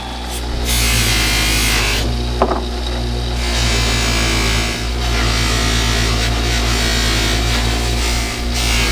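Brass finial for a bowling-ball candy dish being sanded with finer-grit abrasive, a steady loud whirring rasp from a spinning lathe running continuously throughout, with a brief sharp tick partway through.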